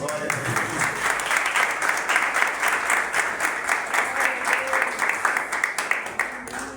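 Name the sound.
audience applauding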